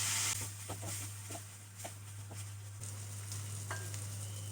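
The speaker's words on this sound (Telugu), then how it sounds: "ఈ దొండకాయ ఉడికిన వెంటనే ఈ ఆనియన్ది మిక్చర్ వేసుకొని కలుపుకోవాలి" Tindora cooked with an onion-chilli mixture is stirred in a pan, producing a soft frying sizzle broken by repeated short scraping strokes of a spoon, with a steady low hum beneath.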